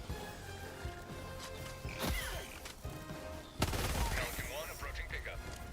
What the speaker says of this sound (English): This is a to whom it may concern sniper rifle.